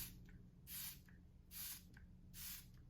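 Makeup setting spray is misted onto a face in three short pump bursts, each a close, sharp hiss about a second apart with quiet gaps between.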